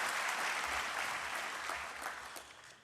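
A convocation crowd at CSULB claps for outstanding faculty leaders. The applause is dense and sustained, then gradually fades toward the end.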